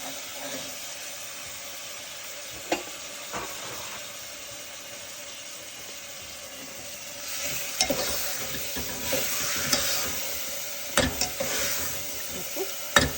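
A spoon stirring khichadi ingredients as they sizzle in a pan, a soft steady frying hiss with scattered scrapes and clinks of the spoon against the pan, growing busier toward the end.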